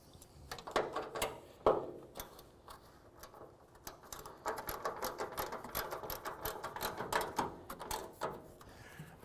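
A rapid metallic ratcheting of a wrench tightening a car hood bolt, with clicks in quick bursts that go on through the whole stretch, fairly faint.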